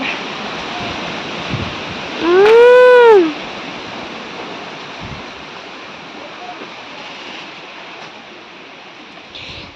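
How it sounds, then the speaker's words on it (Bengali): Storm wind rushes outdoors in a steady, broad roar, with a short whistling, rising-and-falling tone early on and no speech. "ঝড় উঠেছে"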